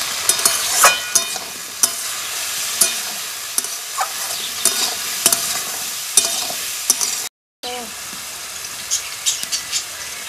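Bitter gourd fries with salt, turmeric and green chillies, a loud continuous sizzle broken by repeated sharp scrapes and clacks of stirring, with a brief dropout near the end.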